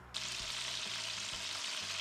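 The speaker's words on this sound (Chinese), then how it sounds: "慢慢把鹌鹑蛋煎成金黄色。" Quail eggs sizzling in oil in a wok over low heat, a steady bright frying hiss that begins abruptly and continues loud and close throughout, with no talking.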